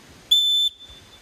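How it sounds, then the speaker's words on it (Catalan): A single short, shrill blast, under half a second, comes from a safety whistle built into a Decathlon backpack. It sounds loud and close against near silence. "A part de tenir aquesta alarma, aquesta motxilla té incorporat un xiulet."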